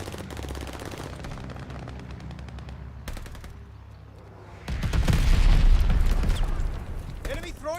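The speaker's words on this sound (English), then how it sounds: "Friendly bombing run inbound." Bombing run explosions and rapid gunfire in the Call of Duty Vanguard game, with steady automatic firing that gives way to a louder, heavy burst of rumbling blasts near the end.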